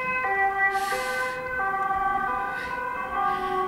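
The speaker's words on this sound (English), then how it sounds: "Siren. Just wait for that to go by." An emergency siren wails with alternating two-tone pitches, fairly close and steady, over low traffic rumble.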